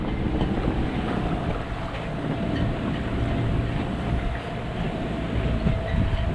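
Strong stormy wind roars steadily around a boat, a dense continuous rush with a low rumble underneath and no talk.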